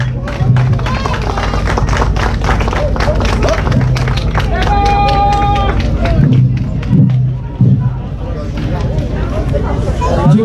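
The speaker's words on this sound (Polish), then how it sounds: "wielkie brawa!" Crowd clapping and applauding at an award ceremony for a rally event, dense steady clapping under background chatter and music, with a brief sustained tone midway.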